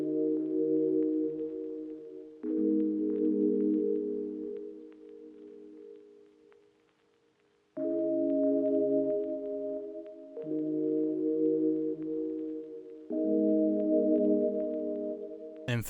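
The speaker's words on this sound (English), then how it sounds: "Then for the second half of the sample I just used simple sine waves that sound like this." Simple sine wave synth tones played as sustained chords in a beat, soft clean notes changing every couple of seconds with a short fade and gap near the middle, no voices.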